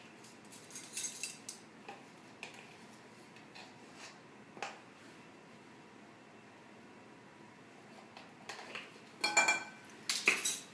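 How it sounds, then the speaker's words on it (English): A whisk stirs flour, salt and baking powder together in a mixing bowl, giving sparse light clinks and scrapes against the bowl that grow busier toward the end, mostly quiet in between. "I just like to whisk them together so they're nicely blended"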